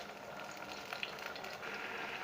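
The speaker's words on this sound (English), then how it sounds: "Then we leave it to also fry together with the onion, which is already frying." Onion fries in a pot for a stew, giving a steady, dense sizzle and crackle that fills the whole clip with no talking over it.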